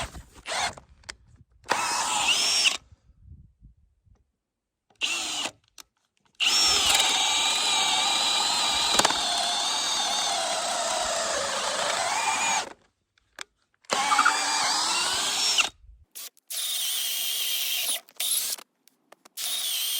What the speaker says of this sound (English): start by drilling some holes and getting all the bolts in. So I do now have a 5/8 drill bit that is quite long